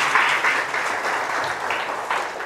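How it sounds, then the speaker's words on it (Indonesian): An audience applauds during a university public lecture on bearing knowledge and application: dense, close clapping that holds steady for a couple of seconds with slight swells. "saya minta satu tepuk tangan yang meriah"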